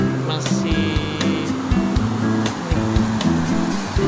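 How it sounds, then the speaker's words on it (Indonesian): Large waves surge at Mutiara beach in the late afternoon, a loud, continuous roaring wash of surf close by, overlaid with a steady tonal hum. "ombaknya lumayan gede ya, ini sampai naik ke atas ya"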